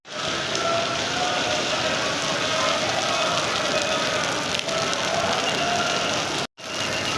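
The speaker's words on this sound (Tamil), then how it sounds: "சரியான மழை" Heavy rain pouring in Thrissur, Kerala, a dense and loud steady hiss of drops on surfaces with no break, cut off briefly near the end.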